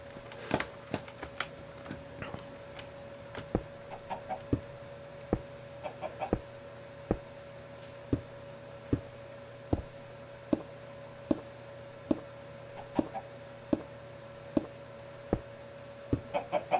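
Blocky video-game chickens on a Minecraft farm cluck in short, evenly spaced clicks, moderately close, over a steady hum with no talking.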